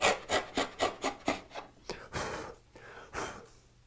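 Hand saw cutting a dado in wood, a close series of rhythmic rasping push-and-pull strokes that slow into longer, heavier passes.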